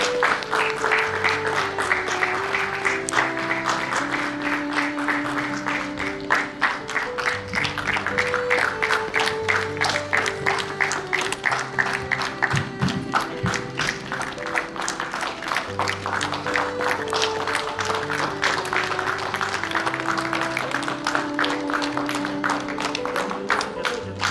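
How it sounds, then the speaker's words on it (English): A large gathering applauds steadily at an engagement celebration as the groom is welcomed, the dense clapping sustained for the full stretch under loud music with a steady beat. "Put your hands together."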